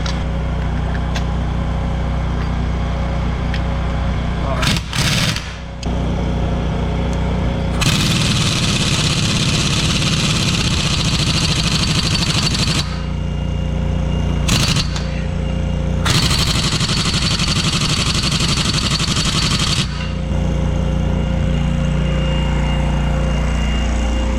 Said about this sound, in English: You just hammer the crap out of it with the 1-inch gun.